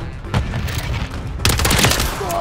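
HRM9 submachine gun fire in Call of Duty Warzone on the Scrapyard map, loud close bursts of rapid shots with a couple of louder booms, dense and overlapping against steady game background noise.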